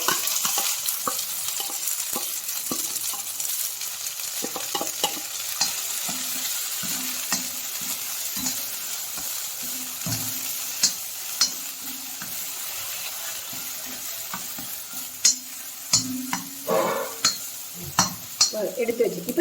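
Mustard seeds spluttering in hot oil for tempering, a continuous frying hiss with scattered sharp pops and crackles that come more often toward the end, close and unaccompanied by speech.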